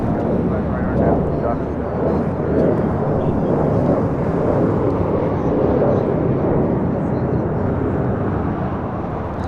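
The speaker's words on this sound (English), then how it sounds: "This is Alaska SkyWest 3424 taking off to San Francisco on an E175." Alaska SkyWest Embraer E175 regional jet taking off from LAX, a loud, steady broadband engine roar that holds at full strength for the whole stretch with no pauses, close and continuous.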